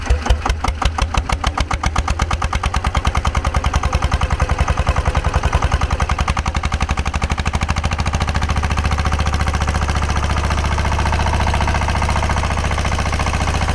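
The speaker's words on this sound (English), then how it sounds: "let's go ahead and rev it up and see how loud she gets" A SABB GA 12 HP air-cooled single-cylinder diesel revs up from a loud, close knocking idle into a faster, steady chug, with each firing stroke distinct before blurring into a dense rapid beat that holds.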